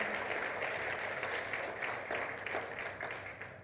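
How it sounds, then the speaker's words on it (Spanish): Congregation applause during a church sermon: a full room of hands clapping steadily, close and lively, tapering slightly in the final second with no voices over it. "Dale un aplauso al Señor."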